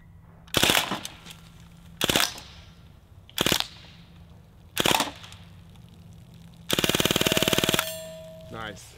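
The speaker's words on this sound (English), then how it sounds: "We're gonna shoot this one with the stock collapsed." Full-auto BB gun fired with its stock collapsed, loud and close: four short separate bursts spaced about a second and a half apart, then one longer sustained rapid-fire burst, followed by a faint metallic ring.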